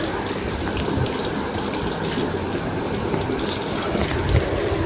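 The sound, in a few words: frying eggplant in hot oil in a wok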